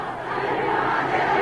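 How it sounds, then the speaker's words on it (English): Crowds in Iran shout a call for jihad in a dense, loud roar of massed voices that runs continuously through the short stretch. "crowds joined the call of the Afghan resistance for a jihad, or holy war, against the godless communists"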